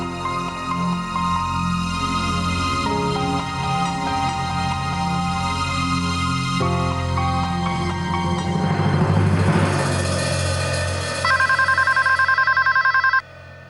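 A landline telephone rings loudly and repeatedly for several seconds with a steady electronic tone over a background bed of music, then cuts off abruptly.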